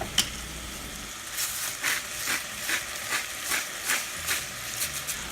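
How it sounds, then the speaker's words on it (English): A pepper mill grinds fresh black pepper in a series of short, evenly spaced rasping cranks, close and fairly crisp, over a faint low simmer in the background. "Just going to add some freshly ground black pepper and some pink Himalayan salt for seasoning."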